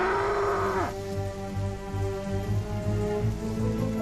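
Steady rain effect in a Trainz railway simulation remake, a soft continuous hiss laid under orchestral music with a sustained tonal chord and a gliding tone near the start, no talk.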